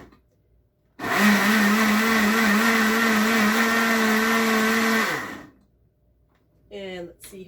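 A blender runs hard for about four seconds, loud and close with a steady whirring motor tone, grinding cilantro and charred vegetables into salsa verde, then cuts off, followed by a short second burst.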